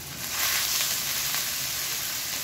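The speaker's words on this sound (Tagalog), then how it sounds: "Igigisa na natin yung mga inihanda nating panggisa, luya, bawang at sibuyas." Ginger, garlic, onion and red chili sauté in hot oil with a steady, close hissing sizzle that holds evenly throughout.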